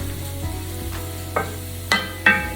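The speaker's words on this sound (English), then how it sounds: "I'm gonna just kind of cook up everything in this cast iron pan" Seafood cooking in a hot cast iron pan: a steady sizzle and frying hiss with a few sharp scraping clinks from stirring, close up, with no talking.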